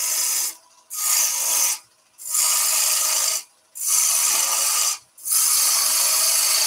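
Wood lathe with a gouge taking roughing cuts on the back of a wooden vase: loud, hissing shearing bursts of about a second each, repeated five times with short quiet gaps between cuts.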